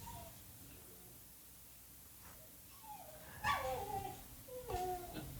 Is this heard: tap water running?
no